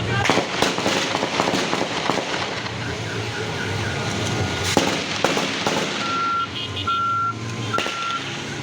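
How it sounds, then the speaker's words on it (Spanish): Sharp, sporadic gunshots crack amid a noisy street during a shootout over a foiled robbery, followed by repeated electronic beeping near the end. "Los fuertes disparos causaron pánico en la zona"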